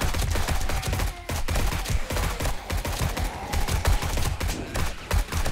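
A modded AR-15 rifle fires rapidly in the zombie survival game 7 Days to Die, a dense run of close, punchy gunshots in irregular bursts with brief gaps.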